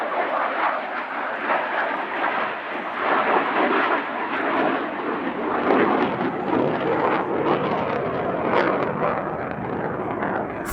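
An aerobatic aircraft performing a push into an inverted pass at the Cosford Airshow roars loudly and continuously overhead, its engine noise swelling and fluctuating as it manoeuvres.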